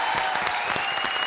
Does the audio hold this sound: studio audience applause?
yes